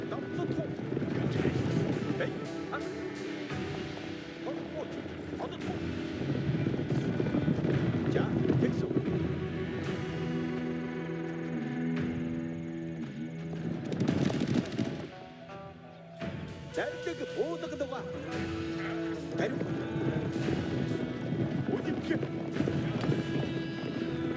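Horses gallop in a steady clip-clop as mounted Mongol Mangudai horse archers ride in an Age of Empires IV battle at the Kalka River, the hoofbeats running beneath a narrator's voice amid dense game music and battle ambience.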